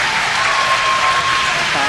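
A crowd cheers and applauds continuously, a dense wash of clapping and voices with a faint steady tone running through it.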